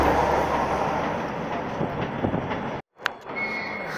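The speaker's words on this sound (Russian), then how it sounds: "Это поезд Триж. Из Владимира едет. Вот такая очень большая скорость." A high-speed passenger train from Vladimir rushes past close by, sending out a loud broadband roar that cuts off abruptly as it clears, then fades into lighter rail noise and a faint tone.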